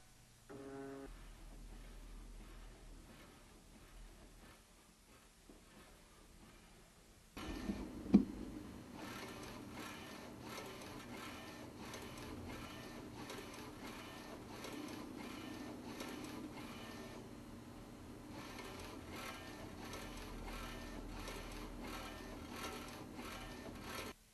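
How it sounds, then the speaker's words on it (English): A direct-to-garment kiosk printer runs its second pass, its print bed returning with a bump and then a steady mechanical whir and rhythmic ticking carriage motion that continues for about twenty seconds, close and moderately loud, with no voices. "the bed will return, and begin to print the second pass."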